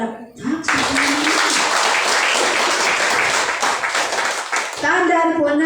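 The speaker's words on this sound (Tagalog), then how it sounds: "Wala bang palakpak sa Panginoon?" A church congregation at a Sunday worship service bursts into loud, sustained clapping, with a voice speaking briefly before the applause and again as it fades.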